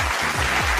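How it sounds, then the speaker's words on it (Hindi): A studio audience claps loudly for a contestant after a game round, a dense, continuous burst of applause heard up close with no talking over it. "जोरदार तालियां"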